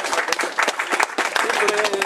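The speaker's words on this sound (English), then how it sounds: "Okay, so big hand of applause to Zensar." An office crowd at a company Diwali celebration gives a short burst of lively, close clapping, with a voice cutting in partway through.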